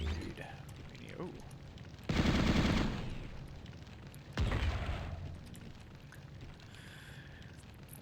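A shotgun in the video game Chasm: The Rift fires two loud, booming blasts a couple of seconds apart. Each shot rings out into a decaying rumble over low background game noise.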